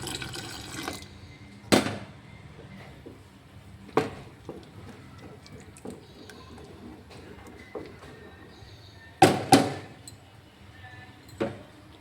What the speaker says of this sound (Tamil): எனக்கு தண்ணி பத்தலை, கொஞ்சம் தண்ணி ஆட் பண்ணிக்கிறேன்.